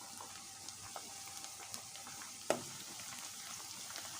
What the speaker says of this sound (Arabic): حطيت بصلة بديها تشويحة